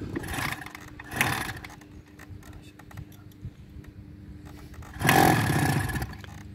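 A 1977 Suzuki motorcycle engine, a long-abandoned bike being brought back, revs in loud roaring bursts at the start and again near the end, with a rougher idle and scattered knocks between.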